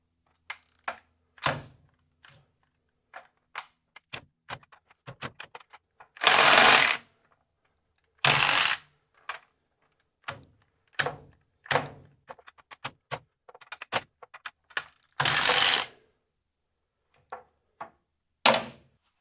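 A Milwaukee M12 FUEL extended reach cordless ratchet spins a nut in a few loud whirring bursts, separated by clicks, clunks and handling knocks in a quiet room.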